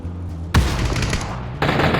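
Gunfire in PUBG Battlegrounds: a loud sharp shot followed by a sustained burst and a second blast, close and dense, with no talk.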